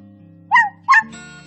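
A dog gives two short, sharp barks close by, about a third of a second apart, over a low steady background hum.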